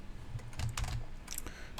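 Quick keystrokes on a computer keyboard while a hashcat command is entered, rendered as a close, faint patter of soft clicks in an irregular run with brief pauses.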